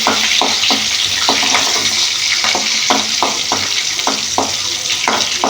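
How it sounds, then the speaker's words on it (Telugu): Chopped onions fry in hot oil for an ivy gourd fry, with a loud continuous sizzle broken by regular scraping strokes of a spatula stirring the pan, close up and without talk. "ఉల్లిపాయలు వేసుకోవాలి. మంచిగా వేగాలి. కొంచెం లైట్గా వేగాలి."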